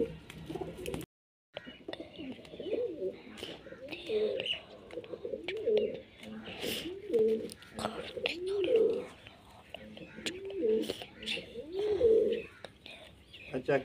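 Domestic pigeons at a loft coo in a steady series of low, throaty rolling calls roughly every second or two, fairly close, with faint whispery voices and small rustles in the background.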